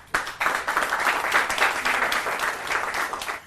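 An audience at a poetry gathering breaks into loud, dense applause, many hands clapping together in a sustained burst that starts abruptly and stays strong throughout.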